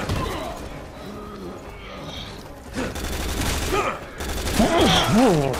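Gunfire bursts rattle out in the Resident Evil 6 video game, mixed under excited voices talking over the action.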